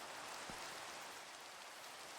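Rain falls steadily in a video game, a soft broadband hiss of drops that stays constant and fairly faint with no voices.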